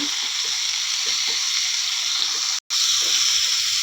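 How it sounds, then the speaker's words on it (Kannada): Chopped cauliflower and small potato pieces frying in hot oil for a dhaba-style curry, giving a steady, close, dense hiss that holds throughout, broken only by one very brief dropout near the end. "ಎಣ್ಣೆ ಕಾದಿದೆ ಒಂದು ಗೋಬಿ ಮತ್ತು ಸಣ್ಣ ಸಣ್ಣದು ಎರಡು ಆಲೂಗಡ್ಡೆನ ಈ ರೀತಿ ಕಟ್ ಮಾಡ್ಕೊಂಡಿದ್ದೀನಿ ಹಾಕ್ಕೊಂಬಿಡೋಣ"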